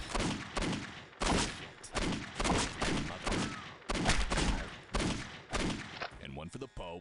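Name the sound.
gunfire in a video game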